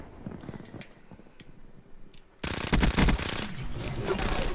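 Submachine gun fire in a team multiplayer shooter game bursts in suddenly after quieter background game sounds, loud rapid automatic fire continuing to the end, with no speech over it.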